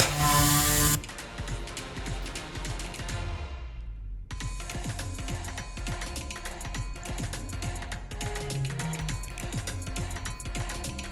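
A Surf Prep electric sander works over a vintage wooden dresser around hardware holes and edges. A steady, buzzing whir runs throughout, with a louder burst at the start and a brief pause partway through.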